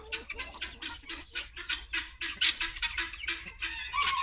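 Several chickens, hens and roosters, cluck in a busy, overlapping chatter, with short repeated calls close by and no talking.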